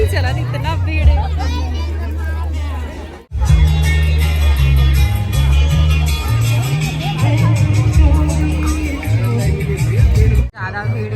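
A packed wedding reception in Bemetara gives off a steady wash of crowd chatter over booming low music, loud and continuous apart from two brief dropouts.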